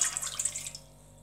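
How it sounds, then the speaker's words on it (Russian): Warm water pours briefly into a bowl for dough, a close bright splashing stream that stops after under a second, leaving a quiet room. "один стакан теплой воды"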